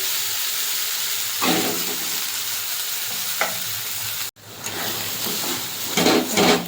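Bottle gourd peel paste with prawns hitting hot oil in a wok, a steady loud sizzle with stirring scrapes and bursts of spattering that flare up midway and again near the end.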